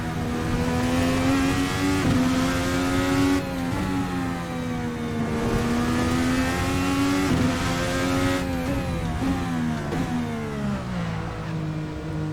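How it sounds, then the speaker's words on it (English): Tires lock up and squeal under a sustained revving engine in a racing sim game using a MOZA Racing SRP-Lite brake kit, the steady tonal whine wavering continuously and fairly loud throughout. "There you heard those tires locked up, squealing."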